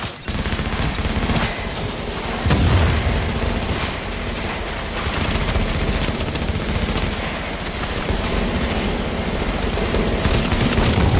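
Continuous gunfire in The Division, played with a Striker build, with dense automatic bursts forming a loud, unbroken wall of shots and impacts that lasts the whole stretch with only slight dips.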